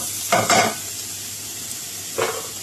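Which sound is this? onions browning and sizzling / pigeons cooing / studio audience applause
onions browning and sizzling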